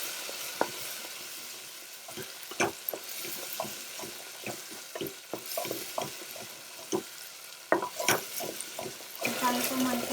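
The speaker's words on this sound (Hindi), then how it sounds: "मसाले को अच्छे से भून लेंगे" Spices with asafoetida sizzle in a pan for dal makhani while a spoon stirs and scrapes, producing repeated clinks and scrapes over a soft continuous fry.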